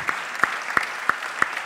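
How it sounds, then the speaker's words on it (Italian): Audience at an award ceremony claps in a steady rhythm, five evenly spaced beats over under two seconds, moderately loud with no talk over it. "fate un applauso"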